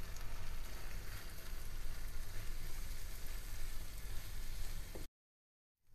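Vermicelli sizzling as it is stirred and sautéed in a pan with a vegan tomato base, a steady close crackling hiss that cuts off abruptly near the end.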